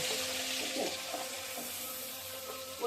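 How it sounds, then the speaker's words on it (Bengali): An egg frying in a pan with onion and turmeric, a soft steady sizzle at low level with faint stirring, no speech. "ডিমটাকে সামান্য একটু করে ভেজে নিচ্ছি।"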